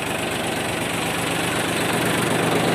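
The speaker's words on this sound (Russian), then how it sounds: "В продаже имеется трактор Mitsubishi МТ-185, дизель, жидкостное охлаждение" A Mitsubishi MT-185 liquid-cooled diesel mini tractor engine runs steadily and close, a loud, even, rumbling drone with no break throughout.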